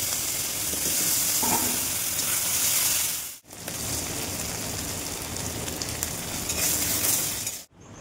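Dried fish fries in hot oil for a taro dish, a loud continuous crackling sizzle close up, broken by two brief silent cuts.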